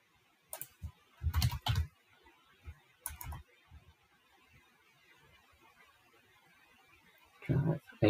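Short bursts of computer keyboard typing enter a search, several quick clusters of clicking keystrokes at close range separated by quiet pauses, with a final burst near the end.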